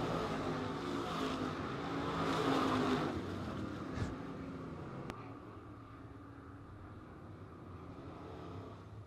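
Dirt late model race cars accelerate on the dirt oval at Modoc Raceway, their engines roaring in a swell that peaks and then fades into a steady, distant drone.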